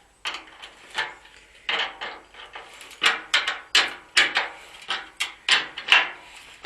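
Metal parts being tightened down on a homemade charcoal retort built from scrap found in the woods, heard close as a steady series of short knocks, scrapes and clanks, with no talking.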